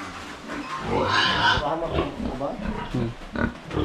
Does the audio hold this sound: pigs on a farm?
yes